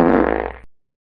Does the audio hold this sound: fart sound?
yes